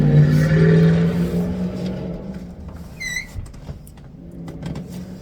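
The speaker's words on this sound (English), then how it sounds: "Of course, there's going to be motorcycles" A motorcycle engine drones and fades outside, heard through a room as a low rumble that slowly recedes, followed by quieter indoor rustling and small clicks.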